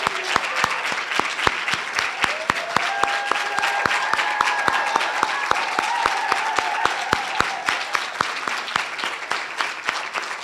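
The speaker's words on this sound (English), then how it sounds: "give them a huge round of applause and thank you" Sustained applause from a seated crowd at a university occupational therapy oath-taking ceremony, honouring the teachers; dense steady clapping with sharp individual claps standing out, and a faint voice or tone briefly audible beneath it.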